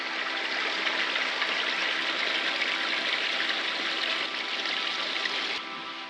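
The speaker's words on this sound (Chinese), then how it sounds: "旁边有小溪涧，" A small mountain stream runs beside a forest trail, a steady broadband rush and trickle of water, continuous and fairly close, with no voices over it.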